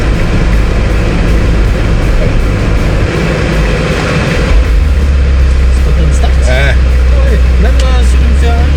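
A 600-horsepower Ferrari driven through Maranello rumbles with a loud, deep engine drone that rises in pitch partway through. Voices talk over the engine noise.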